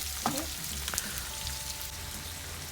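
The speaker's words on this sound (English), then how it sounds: "I'll add my sweet peppers, my tomatoes, Scotch bonnet pepper and garlic, and I'm just going to leave that to fry for a little while" Sweet peppers, tomatoes, Scotch bonnet pepper and garlic fry in a pan for Jamaican ackee and saltfish, giving a soft steady sizzle with a few sharp pops and clicks early on.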